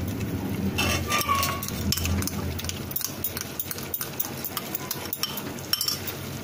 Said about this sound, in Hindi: जिंजर गार्लिक पेस्ट को भी कीमे के साथ तकरीबन 1 मिनट अच्छे से भून लेंगे